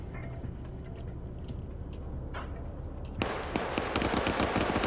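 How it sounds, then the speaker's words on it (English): Gunfire in a large-scale PvP war video game battle at an airfield, distant crackling shots under a low rumble that swell into a louder, denser volley of rapid automatic fire. "Pad's trying to return fire onto Cheese."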